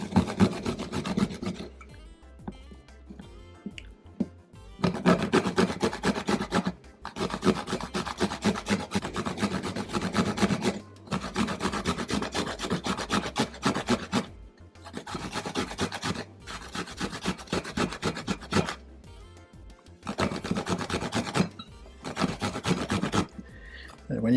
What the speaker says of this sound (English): When you're grating in the coconut